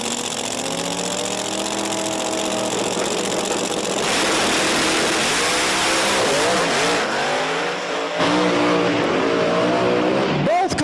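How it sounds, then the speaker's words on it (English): Drag racing cars launching side by side at Virginia Motorsports Park, a twin-turbo Conquest against a Camaro, engines roaring loud and continuous with rising revs, under a commentator's voice and crowd noise. "Twin Turbo Conquest in that left lane. Going up against Ryan Martin"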